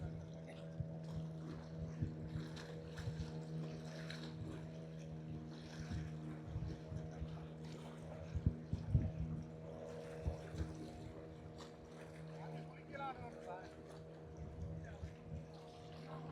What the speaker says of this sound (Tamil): இதில் பாருங்க போட் ஒன்று போகுது பாருங்க.